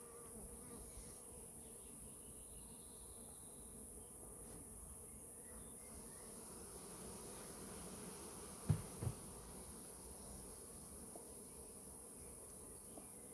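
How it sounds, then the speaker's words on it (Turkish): A soft, steady buzz of many Carniolan honey bees hums in the background, with a couple of brief thumps near the end. "Arkadaşlar arılarımız karnıyol. Karnıyol arılar."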